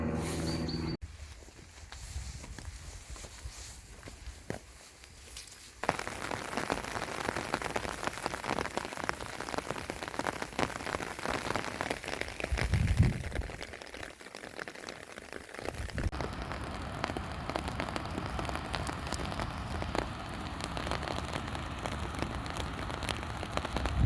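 Steady rain falls across the whole stretch in a damp Scottish hillside setting, a dense continuous patter on surfaces that grows fuller and louder partway through, with no voices.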